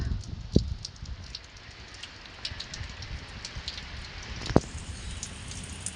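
Light rain falls steadily in Saudi Arabia, a soft continuous patter with scattered drops tapping nearby, quiet overall with two sharper knocks standing out.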